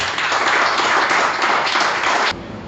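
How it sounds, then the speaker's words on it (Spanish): Loud, dense applause from a church congregation, full and steady before cutting off abruptly near the end. "Vamos a darle un aplauso a la gloria de Jehová, hermanos."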